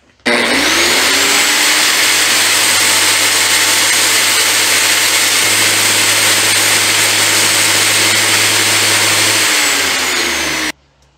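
A motor-driven grinder whines steadily in a garage where a 1940 Chevy coupe is being worked on, starting abruptly, holding a loud even drone for about ten seconds, then cutting off, with no talking.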